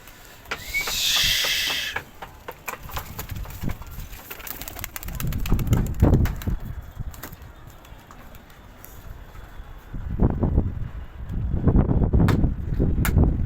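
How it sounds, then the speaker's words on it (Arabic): Pigeons in a loft coo softly and flap their wings in repeated fluttering bursts, close by, with rustling and a brief hiss early on. "في حمام تعبان يا جماعه."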